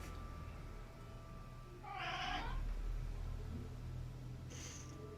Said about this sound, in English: make Rocky do his chittering noise that he used to love doing